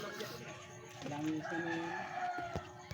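A rooster crows faintly in the distance over a low, steady background hum, its drawn-out call rising and holding for a moment, in the Philippines.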